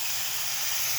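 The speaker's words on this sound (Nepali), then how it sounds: "अब H2O हाल्ने हो बिस्तारै बिस्तारै।" Water poured into a hot pan with egg and potato sends up a loud, continuous steam hiss, a brief close burst heard alone.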